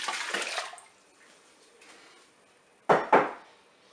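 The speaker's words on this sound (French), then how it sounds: "je vais mettre le jus de cuisson dans la cuve" Mussel cooking juice poured into the pot of a Cookeo multicooker: a short splashing pour at first, fading to quiet, then two sharp metallic knocks close by near the end.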